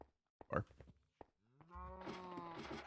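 A cow in the Minecraft All the Mods 9 modpack gives a single long, harmonic moo that starts partway through and rises in loudness, after a few short clicks and game sounds.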